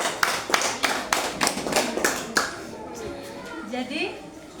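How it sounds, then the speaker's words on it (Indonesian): Classroom students clapping for a presenting group, a burst of sharp claps in a quick uneven rhythm for about two seconds, then fading into scattered taps and children's chatter. "Mari kita berikan tepuk tangan untuk kelompok 1"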